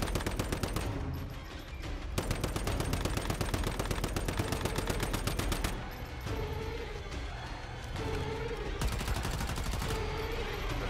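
Rapid bursts of automatic gunfire from a gunner build in the game Once Human, loud and sustained, broken by short pauses between volleys.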